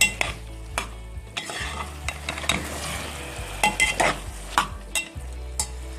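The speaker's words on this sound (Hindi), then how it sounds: "अब हम इसमें भिंडी डालेंगे। और गोश्त के साथ इसे भूनेंगे हम।" Okra and tender meat being stir-fried together in a pan over a high flame, with a steady sizzle and repeated sharp clinks and scrapes of a spoon against the pan, fairly close.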